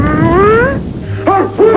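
A child howling in imitation of a wolf, a long rising and falling wail that breaks off, then two shorter howls follow. The voice is close and loud, with no other talk.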